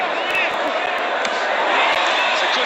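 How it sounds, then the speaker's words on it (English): Arena boxing crowd at the Tyson Fury versus Dillian Whyte fight, a loud, steady roar of cheering and noise filling the space throughout with scattered thumps and claps beneath. "the crowd cheering everything that gets landed here"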